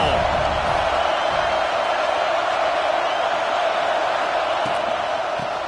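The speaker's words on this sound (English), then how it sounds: "This crowd ready to make its presence known." A roaring stadium crowd in a college football video game holds a steady, dense wash of noise throughout, with no clear peaks.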